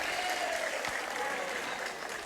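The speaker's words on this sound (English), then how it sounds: "Big cheer there for Matthew Finnegan cleaning up." A crowd in a high school boys' varsity basketball gym cheers and applauds with a steady, dense roar that holds evenly through the short stretch.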